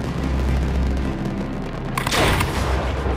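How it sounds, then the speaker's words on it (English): Large Italian bomba de tiro firework shell bursting at a pyrotechnics display: a loud, sudden broadband boom about two seconds in, standing out over steady rumbling background noise. "Their first bomba de tiro. You can see the big shell goes."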